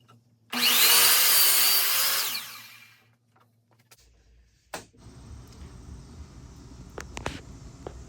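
Cedar wood being cut for the feet: a loud, steady saw cut lasting about two seconds, followed by quieter clunks and handling noises.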